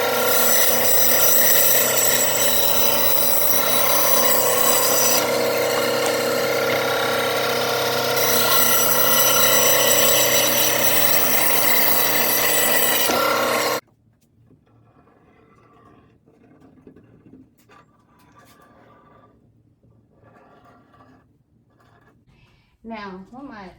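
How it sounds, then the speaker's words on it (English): Bandsaw cutting wood for a wheelbarrow planter gives a loud, steady whining roar for about fourteen seconds, then cuts off, leaving quiet shop noises and faint handling afterward. "Now I'm just going to use the bandsaw to make my cuts here"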